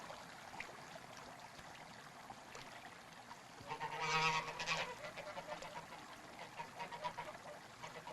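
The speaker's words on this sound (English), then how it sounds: "And there were geese." Geese honk in a loud burst of overlapping calls from a flock, rising around the middle and then continuing in scattered honks over a quiet outdoor background.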